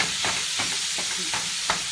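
Hamburger meat browns in a pan while a utensil breaks it apart, giving a steady sizzle with irregular scraping and stirring strokes, close and moderately loud.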